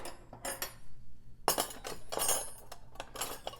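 Metal cutlery and tableware clink and clatter up close as pieces are rummaged through, in irregular bursts with a short lull before a busier stretch of jangling.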